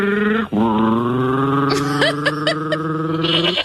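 A person's voice mimics a goat, producing a long wavering bleat with a quivering, stuttering tremble, close and loud.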